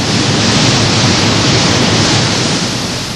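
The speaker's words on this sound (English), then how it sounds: "the strip emerges at a roaring 40 miles an hour down a long run-out table over which multiple water jets are playing" Multiple water jets spray onto a hot steel strip, cooling it from about 1100 degrees as it runs at 40 miles an hour down a run-out table in a hot rolling mill. The roar is a loud, dense, continuous rush, like heavy spray, with no break.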